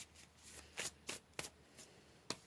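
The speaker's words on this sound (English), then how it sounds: "Let's go ahead and pull a couple cards here." Tarot cards shuffled by hand, heard as a handful of quiet, brisk riffling bursts spaced irregularly across the moment, close up with no voices.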